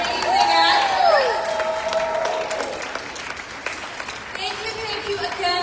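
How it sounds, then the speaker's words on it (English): An audience applauds actors after a children's performance with steady clapping throughout, while a voice talks over the opening and a few whistles or squeals cut through. "Let's give a big round of applause to our amazing actors."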